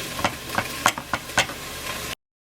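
Bouillon is stirred into water with a spoon, giving a series of soft rhythmic scraping strokes close by, about six in a row, before a brief silence.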